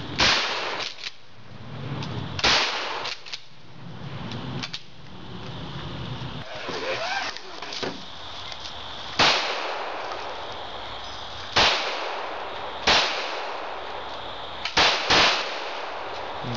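Shotgun blasts, a series of sharp, loud single shots spaced a few seconds apart, with louder reports near the end and rumbling noise between them.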